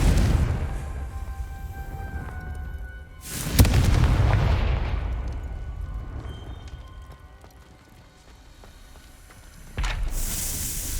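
A Confringo fire spell explodes in the Hogwarts Legacy video game inside a maze, a sudden heavy boom that rolls off into a fading rumble, followed later by another sharp blast.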